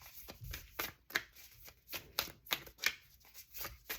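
Oracle cards being shuffled in a series of crisp riffling bursts and soft slaps, close up, with brief pauses between each pass.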